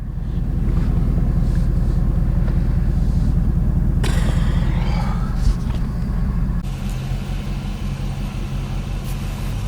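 A 6.7 Powerstroke diesel pickup, tuned to 720 hp, drones on the move with a heavy, loud rumble and wind buffeting. The engine note shifts partway through, and a voice is heard briefly.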